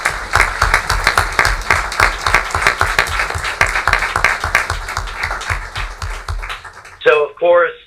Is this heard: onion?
no